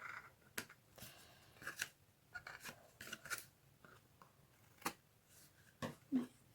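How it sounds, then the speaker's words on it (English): Scissors snip through card stock with sharp, irregular cuts and light paper rustles, quiet and close with no one talking. "it's simple enough just to give it a bit of a trim"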